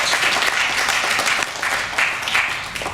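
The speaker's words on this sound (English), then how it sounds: "Please applaud Dr. Lampard." An audience at a ganja law reform event in Jamaica applauds Dr. Lampard with full, sustained clapping from a sizable crowd, swelling and dipping slightly in waves with no talking over it.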